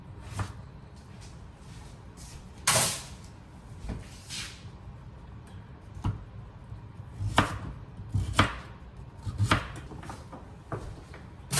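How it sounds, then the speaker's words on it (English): A knife cuts peeled sweet potatoes into cubes on a board, giving irregular sharp thunks spaced a second or two apart with quieter handling noises between, close and clear, with no talking. "I'm going to cut them into cubes"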